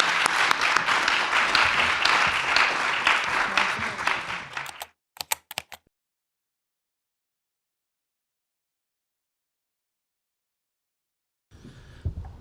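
Audience clapping to welcome panelists at a conference on Rwanda, dense for about five seconds, then a few stray claps before long silence and a brief faint sound at the very end.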